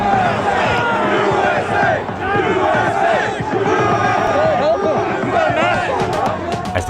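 A large crowd at the Capitol shouts and yells continuously, many voices overlapping in a loud, chaotic roar with bursts of louder cries throughout.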